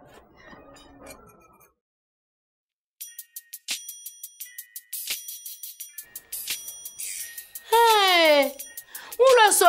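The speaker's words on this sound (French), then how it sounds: "son portable sonne comme ça dans la cour" A mobile phone rings with a tinkling, melodic ringtone in a courtyard, sounding as repeated bright chiming pulses that swell louder toward the end, after a brief stretch of faint murmuring and a short silence.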